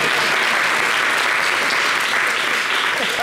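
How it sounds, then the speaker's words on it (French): Audience applause from a French TV studio crowd, dense steady clapping filling the room at close range for the whole stretch, with no one talking over it. "Et ils vont applaudir encore,"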